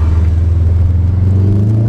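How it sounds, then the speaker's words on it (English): A Subaru with a slow, underpowered engine drives along, its low engine rumble and road drone loud and steady throughout from inside the car, with no talk. "Nate's gonna take us for a drive in his new Subi."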